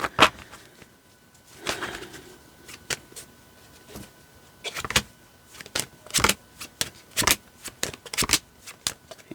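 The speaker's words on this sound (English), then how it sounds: "The cards don't want to shuffle." Crisp, rapid riffling of tarot cards being shuffled during a reading, in several short bursts, close by, with brief pauses between flurries.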